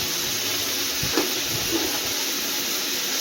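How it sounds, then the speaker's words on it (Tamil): Tomatoes and dried red chillies sautéing in a pan give a steady, close hiss of frying with a couple of faint clinks, continuous throughout. "தக்காளி நல்லா வதங்கட்டும். ரெண்டு மிளகா வந்து காஞ்ச மிளகா சேர்த்துருக்கேன்."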